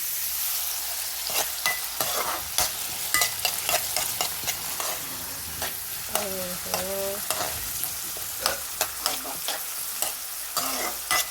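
Okra and prawn curry frying in a pan, sizzling steadily while a spatula scrapes and taps in irregular strokes. It sounds close and moderately loud, with a faint tonal squeak midway and no speech.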